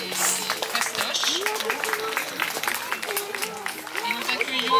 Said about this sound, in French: Bon, nous applaudissons Martial et Fastoche.